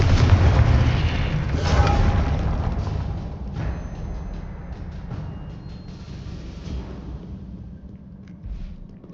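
An explosive blast spell in Hogwarts Legacy booms loudly at the start, then a second heavy thud follows as the rumble gradually decays into fading debris and crackles.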